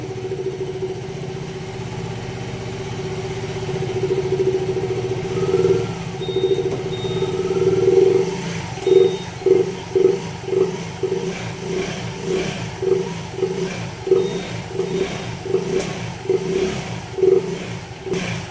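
A Yamaha Gravis motor scooter engine with a stalling problem idles nearby, then revs again and again in short, rhythmic bursts, each rise and fall of the throttle clearly audible.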